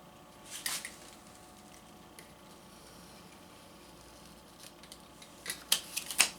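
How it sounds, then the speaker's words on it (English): Scissors snip through a thin plastic face shield sheet, a few crisp cuts near the start and a quicker cluster of sharp snips toward the end, close and fairly faint over a quiet room hum, with no talking. "then cut it from where you had made the mark on the top piece"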